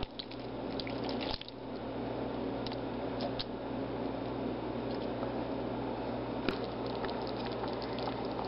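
Undrained canned hominy and its liquid pour into a pot of vegan chili, giving a steady close wet sloshing stream with a few small splashes and drips throughout.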